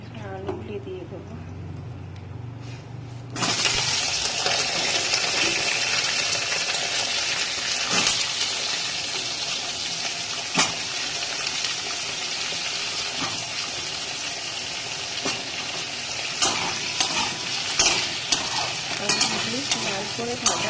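Potatoes frying in hot oil for a paneer-ball kofta curry, a steady loud sizzle that swells after a quiet start and carries on with occasional stirring clicks and scrapes throughout.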